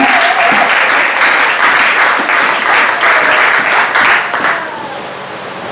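A church congregation breaks into loud, sustained applause that tapers off near the end.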